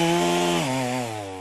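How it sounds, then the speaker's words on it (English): A chainsaw engine revs loudly, then drops in pitch as it winds down, close and alone without any talking. "I've got a chainsaw"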